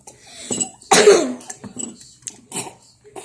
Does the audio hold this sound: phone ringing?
no